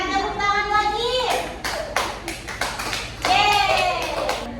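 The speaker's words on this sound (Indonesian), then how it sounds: "berikan tepuk tangan lagi" Children clap together in a classroom, a burst of brisk overlapping claps rising in the middle, with young voices chattering and cheering over it before and after.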